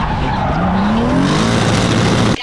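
A drift car skids hard with loud, continuous tyre squeal over a roaring engine that rises in pitch, close and steady for about two seconds before cutting off abruptly.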